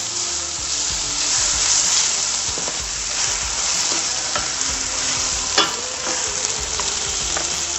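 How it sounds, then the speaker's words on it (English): Garlic and ginger fry in a pan with a steady close sizzle while a utensil stirs, scrapes and taps against the metal now and then, and no one talks. "Add my garlic and my ginger. Stir that a bit."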